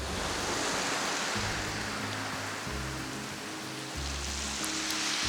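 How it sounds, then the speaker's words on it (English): Ocean waves on the East Devon coast, a steady dense wash of surf with hissing water, continuous and fairly close, with no voices and a low rumble of wind underneath. "Those waves are cool."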